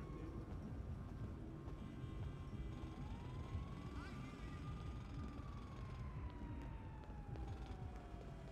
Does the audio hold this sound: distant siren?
yes